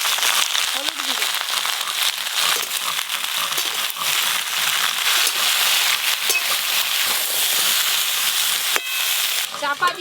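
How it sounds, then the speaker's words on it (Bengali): Potato, yardlong beans and pointed gourd fry together in hot oil with turmeric, a loud, dense crackling sizzle with bursts of spattering and clatters of stirring, alongside some talk. "তেল খুব ভালো করে গরম হয়ে গেল, এই সব সবজি একসঙ্গে ভেজে নেব।"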